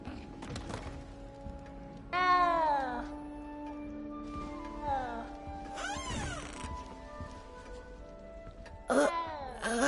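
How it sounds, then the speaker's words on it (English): A cat in a video game gives several drawn-out, wavering meows at intervals over a soft patter of rain and faint background sound. "You don't need to be frightened, little cat."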